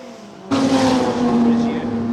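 A historic race car at Donington Park during a three-hour endurance race starts abruptly with a loud engine whine that holds a steady high pitch. It sounds near and follows a short stretch of quieter background.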